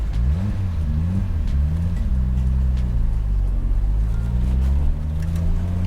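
A Nissan Skyline R33 built by Top Secret Japan runs steadily close by with a deep, even engine drone. A slight wavering in pitch early on settles into a smooth, healthy idle.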